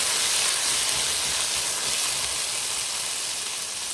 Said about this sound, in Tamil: இப்போ நான் இஞ்சி பச்சை மிளகாய் அந்த பேஸ்ட்டை இதில் ஆட் பண்ணுறேன்.